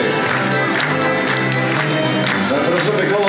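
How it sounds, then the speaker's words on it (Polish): Audience applause at a rural housewives' circles tournament of humorous Silesian dialect performances, a dense, loud, continuous wash of clapping from a crowd filling the whole moment. "Wielkie brawa dla naszych wspaniałych artystów."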